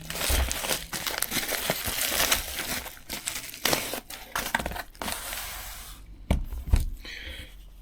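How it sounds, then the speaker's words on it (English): Posted parcel holding a Trustfire MT15 multi-purpose torch being unwrapped, with a steady run of close crinkling and crumpling packaging, tearing and rustling, plus a few sharper knocks near the end. "Let's get it unwrapped and find out."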